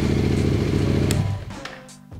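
A Yamaha Ténéré 700 motorcycle engine idles with a steady, throbbing rumble up close, then cuts off partway through, leaving quieter clicks and a fading hum.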